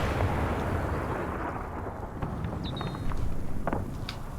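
Distant mortar shells thud and rumble over woods in a Normandy battle in Combat Mission, a low continuous barrage of muffled blasts with scattered sharper cracks, no voices present.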